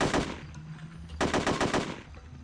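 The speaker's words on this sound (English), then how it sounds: "Okay, they are shooting." Gunfire in the video game Hitman: Codename 47, loud rapid automatic bursts in two volleys, the second one sharper and denser.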